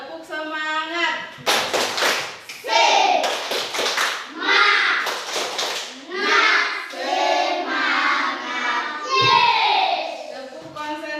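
Children in a primary school classroom perform a rhythmic clapping chant, sharp bursts of hand claps in patterned groups alternating with their chanted voices, loud and close.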